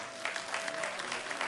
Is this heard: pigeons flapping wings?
no